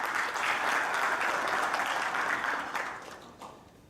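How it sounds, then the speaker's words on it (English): A round of applause for the team at a company fifteenth-anniversary event: an even wash of clapping from a crowd, moderately distant, that fades out toward the end. "A round of applause for the team, please."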